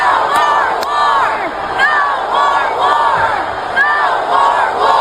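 A large crowd at a political rally chants and cheers in a steady repeating rhythm, loud and close, with several rounds of the same shouted phrase.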